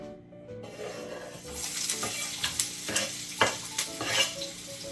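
Hotdogs sautéing in a pan give a steady close sizzle that builds after a quiet start, with a spoon clicking and scraping against the pan in irregular taps, no talking.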